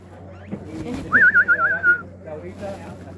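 A short warbling whistle, wavering up and down for about a second, rises over quiet background murmur at Masada; it may be a person imitating a bird.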